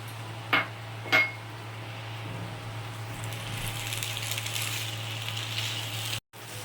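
Spices being stirred into muri ghonto, a Bengali rice and fish-head dish, in a pan: two sharp metallic clinks of a spoon against the pan, then a soft, steady scraping and rustle over a low hum.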